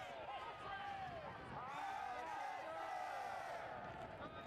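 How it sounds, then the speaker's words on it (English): A home crowd at a Rochester soccer match cheers and murmurs in a broad, sustained roar for a few seconds, swelling toward the end, with no clear voice over it. "You hear the home crowd cheering for Rochester."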